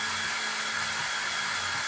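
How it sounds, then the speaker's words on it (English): A hair dryer runs steadily up close while drying a chalk-paste craft project in a kitchen-decor setting, a continuous loud airy whoosh with a faint motor hum beneath and no talking. "So bear with me 1 second while I have the hairdryer on."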